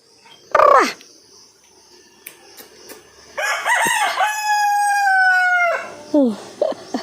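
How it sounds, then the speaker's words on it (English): Hens and a rooster outdoors on a farm: a loud cackle opens, then a long drawn-out rooster crow rises and holds before short clucks and calls trail off, all close and clear. "Those are some hens."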